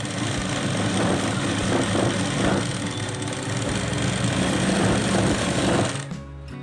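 A sewing machine hums along continuously while stitching blouse fabric at a joint, its fast, even rattle close and loud before stopping abruptly near the end.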